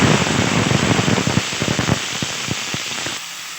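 Eggplant pieces dropped into hot oil in a home kitchen pan, a loud burst of crackling sizzle with sharp pops that gradually thins out and quiets.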